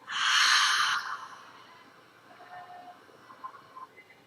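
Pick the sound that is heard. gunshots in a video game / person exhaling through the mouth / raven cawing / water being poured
person exhaling through the mouth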